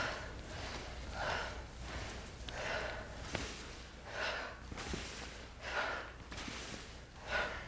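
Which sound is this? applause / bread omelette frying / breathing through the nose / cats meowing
breathing through the nose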